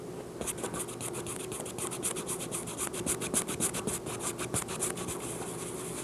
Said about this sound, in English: Really just scrub it in there, trying to get a spot off the floor. Really work it in.